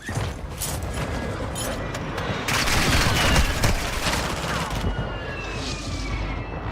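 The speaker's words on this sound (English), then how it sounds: "He's shooting at me." Enemy gunfire in Call of Duty Warzone 2.0 rattles in dense bursts and scattered single shots, loud and close, with a brief heavier volley midway and no talk.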